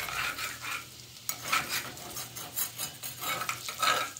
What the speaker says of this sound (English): I'm going to take some of those bacon bits on the bottom and scrape them into the onion.